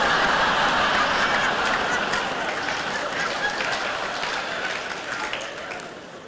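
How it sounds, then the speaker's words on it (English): Applause from a small scattering of audience members at a comedy festival gala, a thin patter of claps fading gradually over several seconds, with faint chuckles in the room. "Nice to hear four people clapping."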